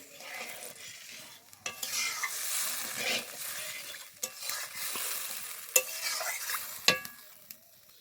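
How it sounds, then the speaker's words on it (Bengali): Fish curry gravy seasoned with turmeric and salt bubbles steadily in a pan, with a soft continuous sizzle and a few sharp clinks of stirring, close and alone without voices. "এবার ঝোলটাকে খুব ভালোভাবে জাল করে নেব।"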